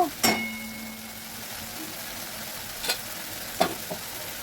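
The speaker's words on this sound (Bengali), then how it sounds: "নেড়ে চেড়ে সুন্দর করে সাঁতলে নেব" Chole ingredients sautéed and stirred in oil in a pan, giving a soft steady sizzle with a few sharp spatula scrapes and knocks against the pan, close by with no talking.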